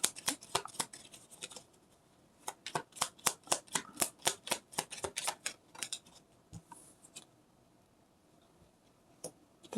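A deck of tarot cards is shuffled close by in a quick series of crisp riffling snaps that speed up in the middle and then trail off into a few scattered taps, with no talk.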